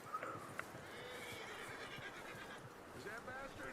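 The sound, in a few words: horse whinnying in video game Red Dead Redemption 2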